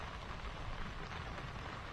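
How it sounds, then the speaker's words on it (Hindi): Heavy monsoon rain pours steadily onto a waterlogged street in Delhi, a continuous dense broadband hiss without pauses or voices. "यहाँ पर हर जगह बारिश ही बारिश देखी जा रही है।"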